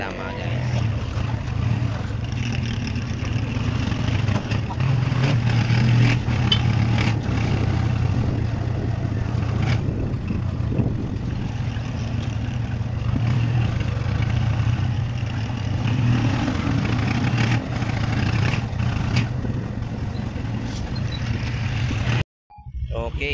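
Yamaha Aerox scooter engine running at idle after being started, a steady low rumbling drone held close and loud for over twenty seconds, cutting out abruptly near the end.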